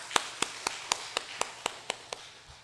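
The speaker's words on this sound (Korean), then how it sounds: "우리 박수로 환영하겠습니다" Single person clapping at a Sunday church service as a new member is welcomed: about ten evenly spaced, sharp claps in a slow steady rhythm, moderately close in a quiet room with no talk.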